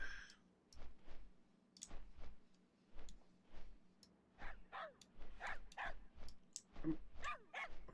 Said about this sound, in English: I mean, I like the little wiener dog.